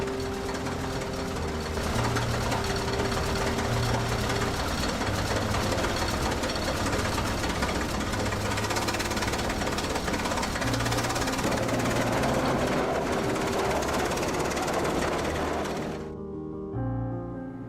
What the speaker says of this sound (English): producing deafening metallic impacts